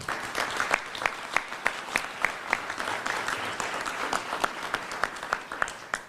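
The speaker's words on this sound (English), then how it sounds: "that deserves a round of applause" Audience applause at a state attorney general's press conference announcing a drug trafficking takedown, made of fairly sparse, evenly spaced sharp claps from a modest crowd at moderate volume.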